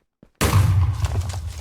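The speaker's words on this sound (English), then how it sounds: "Minegate has reset in a grand explosion." A Minegate stargate in the Minecraft video game resets with a sudden loud explosion after a brief quiet moment, the blast's boom followed by a rumbling decay.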